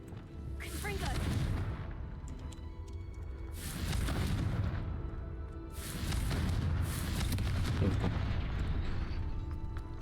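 Three heavy explosive blasts from the Confringo fire spell in Hogwarts Legacy, each a loud booming burst with a rumbling tail, spaced a couple of seconds apart over a steady game background.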